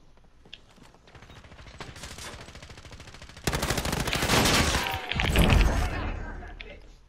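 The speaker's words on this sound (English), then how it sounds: "Somebody else shot at me from deep." Call of Duty Warzone gunfire rattles in rapid automatic bursts, building from quieter distant shots to a louder sustained stream of fire, with speech mixed in.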